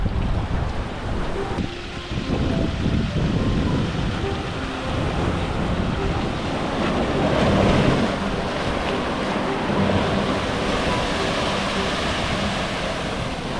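Ocean waves at Sorrento Ocean Beach, a steady loud roar of surf and white water with heavy wind noise buffeting the microphone throughout.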